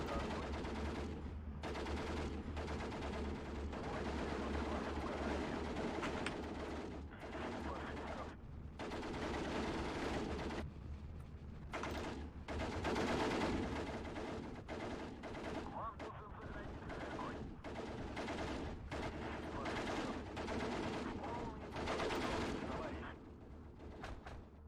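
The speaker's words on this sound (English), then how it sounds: "So I'll just unload these and we'll start mortaring." Mortar and gunfire in the Steel Division 2 war game: a dense, continuous battle of rattling gun bursts and booming impacts at low level, with someone talking over it at times.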